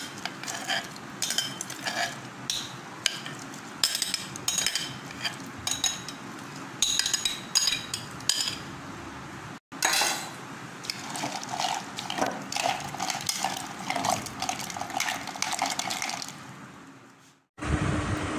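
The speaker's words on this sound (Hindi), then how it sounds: "अब हम इसको अच्छी तरह मिक्स करेंगे" A spoon clinks and scrapes around a glass or jug while watermelon sharbat with water and ice is mixed, giving steady close-up stirring and liquid sloshing with a brief pause midway.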